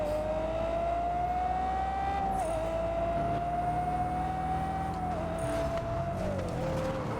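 A Bugatti in a racing video game gives a continuous loud engine drone that holds a nearly steady pitch, then dips as it slows for a corner near the end.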